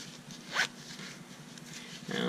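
A zipper on a pocket of a canvas fabric tool belt is pulled open in one quick rasping stroke, followed by a quieter rustle of fabric, close up.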